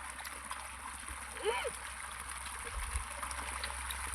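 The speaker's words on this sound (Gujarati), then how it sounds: "અને આપણી મોટર જો એટલું પાણી કાઢે છે." Water pours from a motor pump outlet into a farm field channel lined with a sack, a soft, continuous trickle and gurgle with a brief voice partway through.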